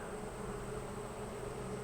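Honey bees buzzing in a steady, dense drone during an inspection of a weak hive prepared for fall, close and continuous with no talk.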